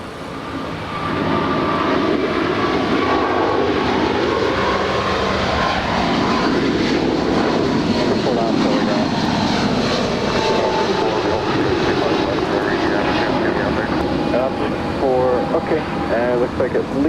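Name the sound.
United Airlines Boeing 777-200 jet rolling down runway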